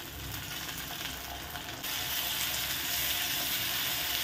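Chopped onion and tomato frying in a pan, a steady soft sizzle that jumps slightly louder partway through, heard alone at low level.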